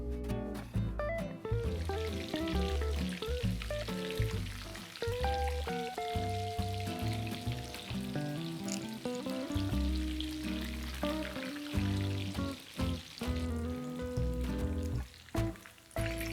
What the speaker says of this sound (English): we need to simply deep fry these pieces of chicken